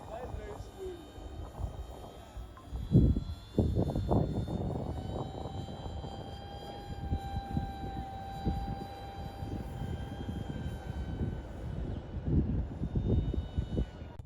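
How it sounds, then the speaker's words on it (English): An RC plane with a high-lift wing flies slowly overhead, its small electric motor giving a thin, wavering drone at moderate distance, with wind noise and a voice talking over it. "The airplane is able to fly as slow as 5 meters per second"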